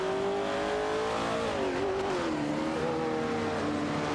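A Ferrari 365 GTB racing in a sim racing video game gives off a loud, constant engine drone whose pitch climbs and dips with shifts and corners, with no pauses.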